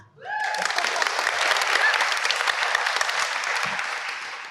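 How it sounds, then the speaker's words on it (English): An audience at a nutrition festival panel in Victoria breaks into clapping for a panelist, swelling quickly from near silence into full, steady applause that tapers slightly toward the end. "Did we give Tan a clap?"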